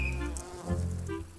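Bees buzz in flight among flowers, a brief close droning hum that wavers in pitch over little more than a second.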